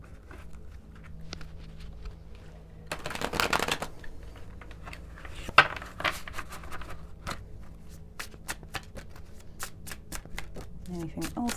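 Tarot cards shuffled by hand in quiet, repeated bursts of riffling and soft slapping, with a louder flurry partway through and scattered taps between, close and fairly faint.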